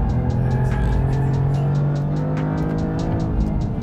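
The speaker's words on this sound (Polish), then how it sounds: "Ostre dohamowanie, dwójka i wchodzimy w zakręt." Toyota GR Yaris with automatic transmission braking hard and downshifting into second gear for a corner, a loud close engine drone with pulsing harmonics and rhythmic throttle blips, no talk.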